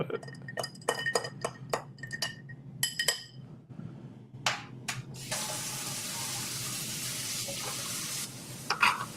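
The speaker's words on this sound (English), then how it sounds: "Probably need to stir that up." Ice clinks against a glass as an old fashioned cocktail is stirred at home, several short bright taps, followed by the steady rush of a running kitchen tap that carries on to the end.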